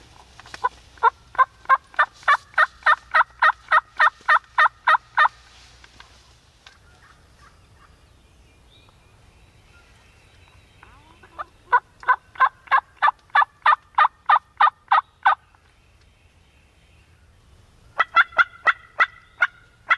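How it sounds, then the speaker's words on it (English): Wild turkeys in a spring field, heard as three loud bursts of rapid, evenly spaced rattling pulses separated by quiet gaps. "Eventually, this group of turkeys have made their way up into the far end of this field."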